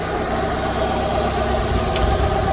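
A repaired Fiat 500 Lounge idling while warming up, giving off a steady close-up engine hum with light mechanical vibration and no voices.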